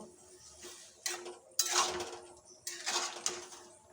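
Metal clinks and clatters of a lid set onto a cooking pot holding ash gourd greens with salt and turmeric, two bright bursts of clanking over a quiet kitchen hum.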